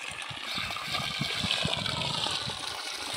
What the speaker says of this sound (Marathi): बोर चालू केलाय म्हणजे मोटर, आणि पाणी चालू आहे बेलाला